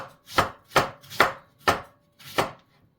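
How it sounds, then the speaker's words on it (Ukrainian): A knife cuts a piece of pumpkin into thin slices on a board, five crisp, separate chops at an even, unhurried pace, close and clear with silence between strokes. "300-400 грамів кусочок отакий ми вибираємо та нарізаємо його тоненькими слайсами"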